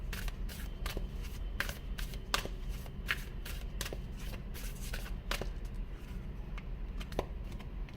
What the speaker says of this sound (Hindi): सो सबसे पहले मैं आपके लिए कार्ड्स रख देती हूँ।